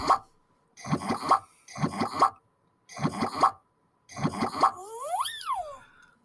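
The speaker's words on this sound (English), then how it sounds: "That is a really awkward sound effect for the making honey" Honey-making sound effect from a Code.org maze puzzle game: four quick clusters of bubbly plops, evenly spaced, then a final burst ending in a bright rising-and-falling boing-like sweep, clean and alone.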